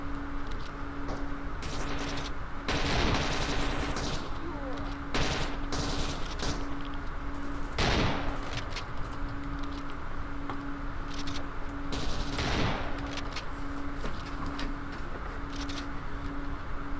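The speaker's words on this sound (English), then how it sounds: "Now let's try the shotgun out." Shotgun blasts in STALKER Anomaly, several loud booming shots at irregular intervals amid a steady background hum and scattered clicks of game sounds.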